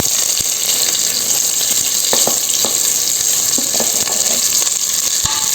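Onion and mint sautéing in a pan for mutton sukka, a loud constant sizzle with scattered crackles and pops, close up and without talk.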